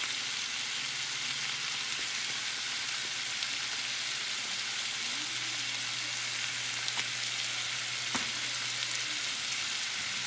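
Ground beef with garlic powder frying in a pan for a spiced Indian keema, a steady dense sizzle holding evenly throughout with a couple of faint clicks, no talking.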